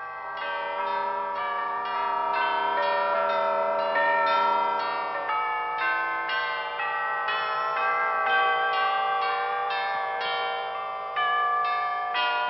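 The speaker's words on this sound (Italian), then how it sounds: "Le campane stanno facendo il miracolo!" Several bells ring together in an animated cartoon, a continuous bright, tuneful peal with overlapping strikes sustaining clearly throughout, with no voices over it.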